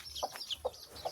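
A chicken clucks in short repeated calls, about four quick bursts close by, over a faint farmyard background.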